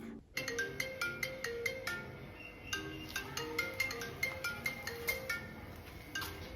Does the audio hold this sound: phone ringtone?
yes